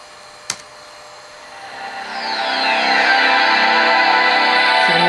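An old 14-year-old laptop's cooling fan spins up in its docking station after a brief click, rising into a loud, steady whirring roar that holds to the end.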